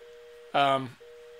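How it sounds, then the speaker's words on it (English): A mobile phone rings once during a webinar Q&A, a short loud burst of bright tonal chime cutting across a steady background hum before fading out. "Sorry, I got my phone. Someone just called me there."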